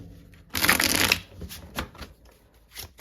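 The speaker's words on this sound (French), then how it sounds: "Allez, on va poser les cartes du tarot." Tarot cards are shuffled close up in a short riffling burst followed by a few lighter card flicks and taps, with no talking.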